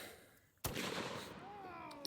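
One loud, sharp anti-tank rifle gunshot cracks out after a quiet lead-in, followed by a long rumbling echo and decaying noise.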